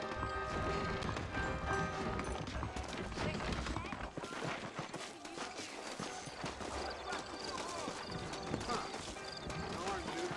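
Horses clip-clop and trot in the Red Dead Redemption video game, steady hoofbeats carrying through the whole stretch alongside game sounds, with voices talking over them.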